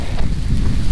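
Hail and rain pelt down in a storm on a Himalayan mountain trek to Kareri Lake near Dharamshala, a loud, dense, rumbling wash of noise close to the microphone.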